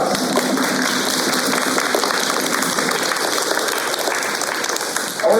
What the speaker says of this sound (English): give your teachers a big hand, a big round of applause